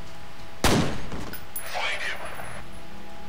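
A single sharp gunshot rings out in the Fear demo shooter game, followed by a short decaying tail and a faint second burst a moment later, with a player talking over the game audio.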